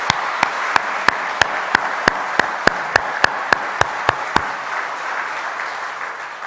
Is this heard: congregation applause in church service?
yes